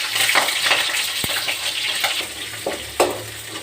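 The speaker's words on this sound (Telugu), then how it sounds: "జీలకర్ర వేస్తున్నాను, చూసారా? జీలకర్ర టక్ టక్ టక్ ఎగుతుంది" Cumin seeds crackling and sizzling in hot oil in a pan for a cauliflower curry, a steady frying hiss punctuated by sharp pops, close and fairly loud.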